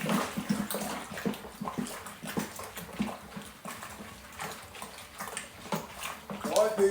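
Cold water runs steadily from a pull-out kitchen sink tap into a bucket, filling toward 23 litres for a pale ale beer kit, a continuous close splashing rush with occasional clinks.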